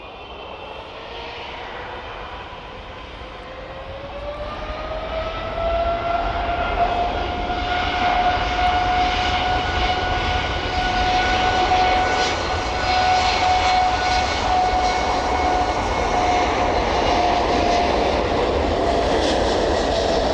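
Jet airliner roaring down runway 09 at East Midlands Airport in the evening, a loud sustained engine rumble and whine that swells over the first few seconds and then holds steady and powerful.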